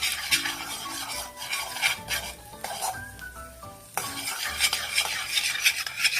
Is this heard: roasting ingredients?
yes